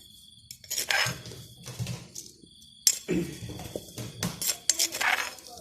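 Rice scooped in a home kitchen while dishes and utensils clink and clatter, several bright metallic knocks and scrapes in irregular bursts, close and fairly loud, with no speech.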